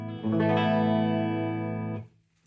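A sustained electric guitar chord on a clean tone with no effects, rich harmonics ringing for about two seconds before being cut off abruptly, played alone and up close.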